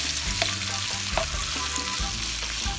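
Shrimp frying over high heat in garlic and oil give off a continuous loud sizzle, with low utensil scrapes and knocks repeating underneath.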